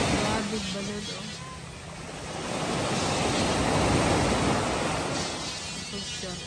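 Big ocean waves churning in stormy weather near a beach resort, a broad washing roar that swells and surges in the middle, with wind noise and someone talking in between.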